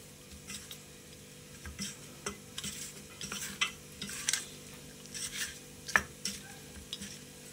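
Fish pieces worked by hand with salt and turmeric in a bowl make soft, wet squelching and rubbing noises in irregular bursts, close and fairly quiet, with occasional light knocks against the bowl; no voices.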